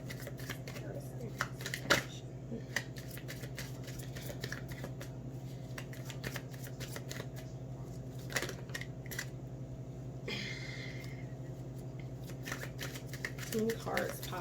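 Tarot cards being shuffled by hand, a soft papery riffle and slide repeating steadily at close range over a constant low hum, with a few sharper card snaps along the way and no talking.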